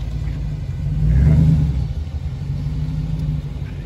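A Dodge Charger arrives at a casual car meet, its engine rumbling low and swelling as it revs near the middle, then settling into a steady, close idle-like drone.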